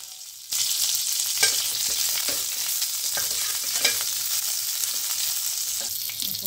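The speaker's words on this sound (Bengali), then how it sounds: "তেলটা গরম হয়ে গেছে, এর মধ্যে শুকনো লঙ্কা, অল্প একটু সর্ষে আর কারি পাতা দিয়ে দিলাম" Dried chillies, mustard seeds and curry leaves hit hot oil after a moment of silence, then a steady loud sizzle runs throughout, with scattered sharp pops and spatters and no talking.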